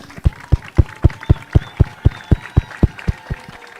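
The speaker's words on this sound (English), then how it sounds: "A round of applause to our graduates for their accomplishment." At ILPD's 13th graduation ceremony, a crowd applauds the graduates with loud, rhythmic unison clapping, a steady beat of roughly four claps per second that fades slightly toward the end.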